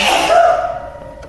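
A single sharp sneeze bursts out close by and quickly trails off.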